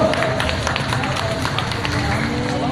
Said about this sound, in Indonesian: Tepuk tangan dulu, cewek duri